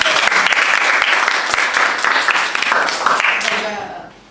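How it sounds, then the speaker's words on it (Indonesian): A classroom of students applauds, a dense burst of hand clapping with voices mixed in, loud and steady before tapering off at the end. "Tepuk tangan buat Tio."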